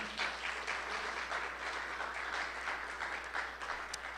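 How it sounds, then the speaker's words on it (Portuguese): At a men's worship service, the congregation gives a round of applause for Jesus, sustained, fairly loud clapping spread evenly across about four seconds with no speech on top. "uma salva de palmas para Jesus"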